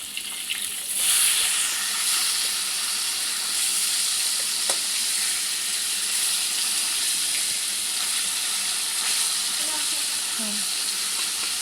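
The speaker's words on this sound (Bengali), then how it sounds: "ওই যে আরো ভাজা হচ্ছে মাছগুলো এত ফাটছে মাছ" Koi fish fry in hot oil in a pan, a continuous hissing sizzle broken by scattered sharp pops and spatters, fairly close and steady throughout the stretch, with no voices heard.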